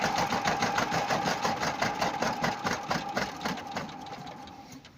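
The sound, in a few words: diesel walk-behind tractor engine being shut off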